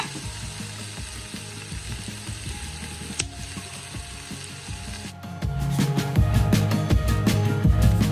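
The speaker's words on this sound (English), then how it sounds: "Then we're gonna add the ginger." Ginger sautéing in a pan for pinakbet sa gata, a Filipino vegetable dish with coconut milk: a steady close sizzle and frying crackle with stirring clatter, which turns louder and busier about two-thirds of the way through, and no talking.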